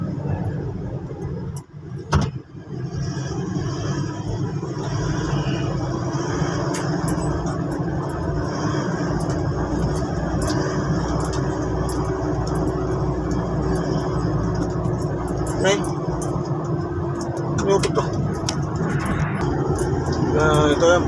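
Steady road traffic around a roundabout in Batangas, a continuous rumble of passing cars and engines close by, with people talking throughout.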